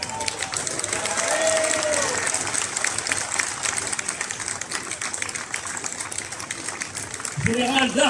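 A crowd at an outdoor pride march applauds a general, sustained dense clapping with scattered cheers and voices mixed in, ending as a speaker resumes near the close.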